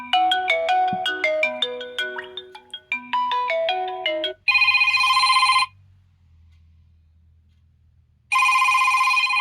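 A Doogee S98 Pro smartphone plays a bright electronic ringtone loudly, a melodic jingle followed by two bursts of a harsh repeating ring with a pause between.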